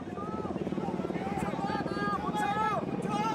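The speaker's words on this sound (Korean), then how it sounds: "상공엔 군 헬기 여러 대가 나타났고" Several military helicopters fly over the National Assembly in Seoul during a martial law declaration, their rotors a constant throbbing drone beneath voices talking over them.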